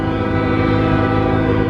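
A train rumbles past close by, a steady, loud mechanical roar with a sustained droning tone running through the whole stretch.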